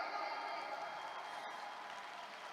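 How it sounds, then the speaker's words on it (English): A seminar audience claps together, a faint, steady wash of applause lasting a couple of seconds, heard from a distance without any talking. "Can we all give ourselves a round of applause today?"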